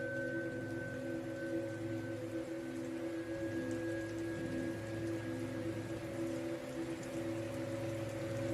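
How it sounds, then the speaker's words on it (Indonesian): Steady rain patters continuously over a low, constant hum with a few sustained tones, even and moderately quiet throughout. "Malam itu hujan turun tanpa jeda."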